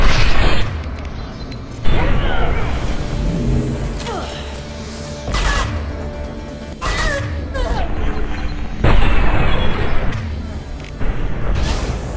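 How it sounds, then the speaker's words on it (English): High-impact weapon shots in Mass Effect 2, played as a Paragon Soldier on Insanity difficulty: loud, heavy booming blasts at irregular intervals, each a sharp crack with a rumbling tail, amid continuous combat noise and game voices. "Firing a High impact shot"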